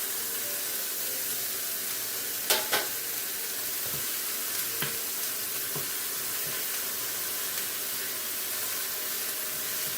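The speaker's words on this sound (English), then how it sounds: "here's my little tomato paste cube going into the pan" A cube of tomato paste sizzles in a pan, giving a steady hissing fry with a few sharp clinks and scrapes from a utensil against the pan, close and moderately loud.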